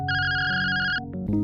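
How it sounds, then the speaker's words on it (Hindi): A phone ringing with an incoming call, a bright electronic ringtone with a sustained melodic tone that then shifts into quick changing notes, loud and close. "लेकिन तभी उसके मालिक का फोन आ जाता है।"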